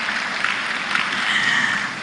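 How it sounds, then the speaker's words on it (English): An audience at the North-East Climate Summit 2024 in Gombe claps for the delegation from Bauchi, a continuous even patter of hall applause heard from a middle distance. "A round of applause for the team from Bauchi"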